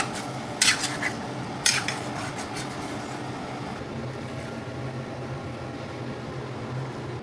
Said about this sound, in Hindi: अब इसमें हम ये अपना पेने पास्ता डाल देते हैं।